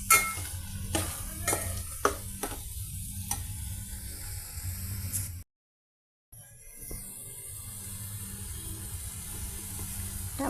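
Tomato pieces cooking with eggplant in a pan for a curry, a soft sizzle with sharp utensil clicks early on, a brief silent gap, then a steadier faint frying hiss.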